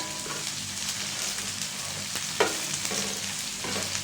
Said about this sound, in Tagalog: Fried tofu yan guys, iprito natin ulit.